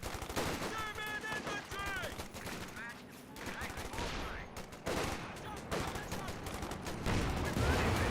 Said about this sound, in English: Panzer IV is firing away